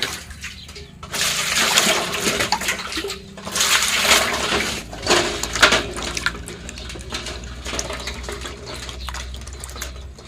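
Ingredients are rinsed in water, with bursts of splashing and pouring that swell and fade in uneven waves, close up and with no voices.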